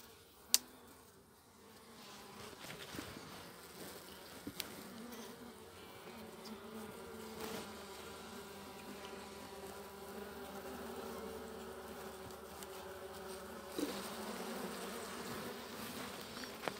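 Honeybees buzz around an opened hive of a weak colony, a low, steady, fairly quiet drone with a few faint clicks from handling frames.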